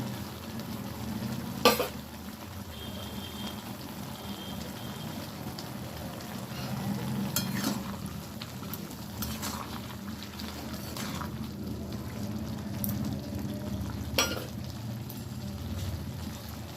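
Spinach stems fry with fried lentil dumplings, chopped coriander, green chilli and mustard paste, a continuous rain-like sizzle close by with occasional utensil clinks and scrapes.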